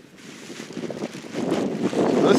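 Strong wind gusts across an open model flying field, buffeting the microphone with a broad, rushing roar that builds steadily louder toward the end, with no one talking.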